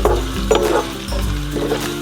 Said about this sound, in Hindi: हम इसको ऐसे ही चलाते रहेंगे 2-3 मिनट के लिए जब तक प्याज और हरी मिर्च फ्राई ना हो जाए